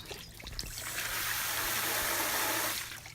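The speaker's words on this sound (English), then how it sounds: "if you open up the pressure relief valve, you'll notice a lot more flow coming through, and that's going to drain just all the water in that hot water tank" Water drains from an Airstream trailer's water heater tank through its drain hole, starting with a few splashes and quickly building into a steady gushing flow that holds, then tapers off near the end, with no talk.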